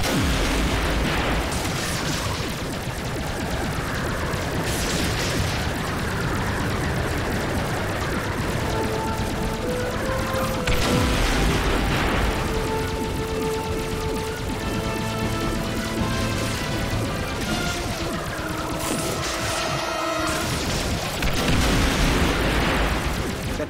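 Continuous barrage of space-battle weapon fire and explosions in a Star Trek video game, with phaser blasts, rumbling booms and crashes layered densely over tonal game music throughout.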